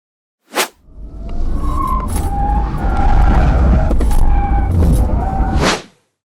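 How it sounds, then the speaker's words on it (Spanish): A 2023 Peugeot 408 swerving through a moose-test evasive maneuver, loud sustained tire squeal rising and wavering for several seconds over road roar, with a short squeal just before and ending abruptly. "vamos a ver cómo lo hace este coche en la maniobra de esquiva y en el slalom"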